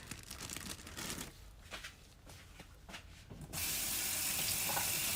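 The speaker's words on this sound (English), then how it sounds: "then we're gonna rinse off these gloves" Gloves rinsed under a running kitchen tap while cooking adobo and tinola, water splashing and rustling unevenly before a steady, louder stream of running water takes over near the end.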